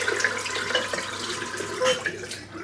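Water runs and splashes through a Bic Flex razor cartridge during a head shave, a short steady rinse close by with faint dripping over it.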